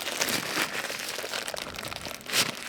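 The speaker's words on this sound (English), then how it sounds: "So let's remove this plastic" Plastic wrapping being pulled off a new Fanttik X9 Apex tire inflator, a close, steady run of crinkling and rustling with a louder crackle near the end.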